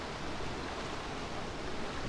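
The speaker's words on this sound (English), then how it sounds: "a lovely sound of gushing water" Clear river water gushes steadily, a broad continuous rushing that stays even and close for the whole stretch with no other sounds.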